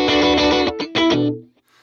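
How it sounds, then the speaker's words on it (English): A distorted PRS SE Starla electric guitar, middle pickup position with coil split, plays a short chordal phrase up close, with a brief gap, then rings out and fades. "in the middle position, when you split it, it kind of gets like a little bit stratty"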